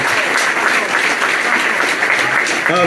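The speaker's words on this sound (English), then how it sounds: "Please give a warm round of applause for a wonderful talk." Sustained applause from an audience after a talk, dense and loud, continuing without a break throughout.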